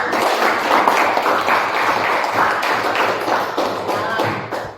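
A class of students claps together for several seconds, giving a busy, uneven patter of hands in a room, fairly close and moderately loud, with a few stronger thumps mixed in.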